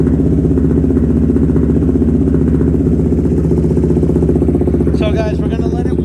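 A KTM 390 Duke single-cylinder motorcycle with a Dominator exhaust idles steadily and close by, a continuous low throbbing drone throughout, with a brief clattering rise near the end.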